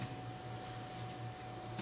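Steady typing on a computer keyboard during a web database project demo, with quick soft key clicks running throughout over a faint low background hum.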